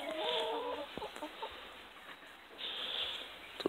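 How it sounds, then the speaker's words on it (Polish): Hens and a rooster in a backyard flock cluck and call softly at a distance, a few faint clucks and squawks spread over a quiet farmyard background. "tutaj kurki"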